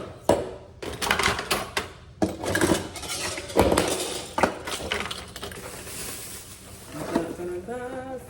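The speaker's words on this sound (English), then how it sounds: "Silverware." Silverware is handled and dropped into a drawer at home, giving a busy run of sharp metallic clinks and clatters, some loud and close, with brief pauses between bursts.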